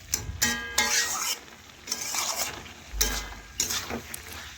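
A utensil scrapes and stirs Malabar spinach with fried fish heads in a pan, with several distinct scraping strokes and clinks over a faint sizzle, close by.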